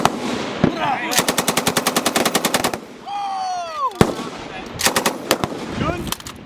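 Small arms fire at a military training range where U.S. Marines and French Foreign Legion practice, with rapid automatic bursts, single cracks and echoing reports, plus a whistling tone in between.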